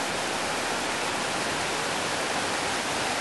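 Steady, dense roar of rushing flash-flood water, loud and unbroken, like a flooded creek surging past nearby.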